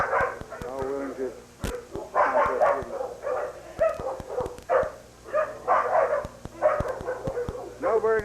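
Several leopard dogs, including a brindle and white bitch, bark and yip in a yard, with repeated close, loud bursts and some whimpering, mixed with occasional human voices.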